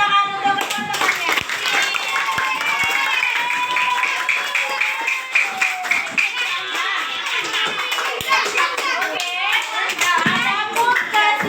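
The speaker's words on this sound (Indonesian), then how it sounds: "Tepuk tangan untuk teman-temannya." A classroom of schoolchildren clap their hands for classmates, a busy patter of close claps mixed with excited children's chatter and shouting throughout.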